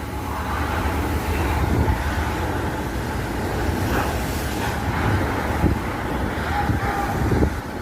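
Strong wind gusts across an outdoor garden with lemon, chili and pomelo trees, a steady broadband roar buffeting the microphone throughout with brief louder bursts.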